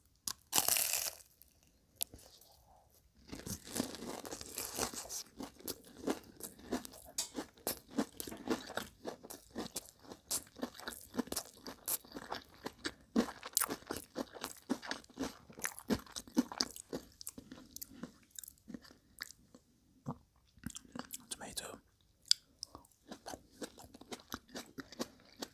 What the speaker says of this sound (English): They're extra crunchy, extremely delicious.